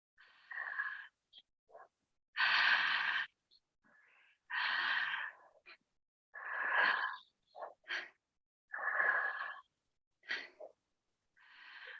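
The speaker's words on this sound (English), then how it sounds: "I'll do it loud so you can follow my breathing." Loud, connected breathing through the mouth in a transformational breath exercise, with about a dozen rough, wheezy in-and-out breaths in an uneven rhythm, close to the microphone and separated by short silences.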